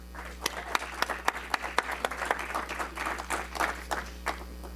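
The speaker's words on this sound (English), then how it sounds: "Let's give them another round of applause." Audience applause at a Rotary event, with sharp individual claps standing out over a steady wash of clapping, fairly close and continuous throughout.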